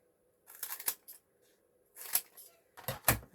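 Scissors trim black foam pads for a craft card in three quick bursts of snipping, close and fairly quiet, separated by short silences.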